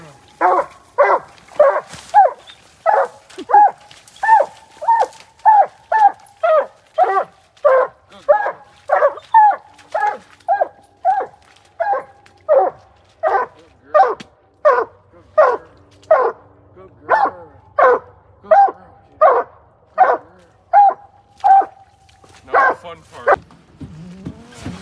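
Nine-month-old hunting dog pup barks nonstop on a night raccoon hunt in New York, a rapid regular chain of sharp, close, loud yelps and bow-wows with brief gaps; no clear talking over it.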